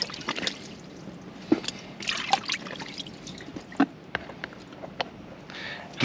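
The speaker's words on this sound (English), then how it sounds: "figured I might as well just put a big hole in the bottom of it so I can drain out" Water trickles and drips out through a big hole drilled in the bottom of a container, with irregular splashes and dribbles close by; no voices.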